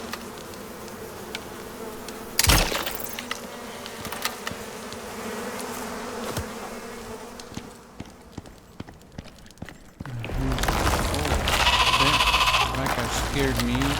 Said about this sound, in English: There's bees in here, I know.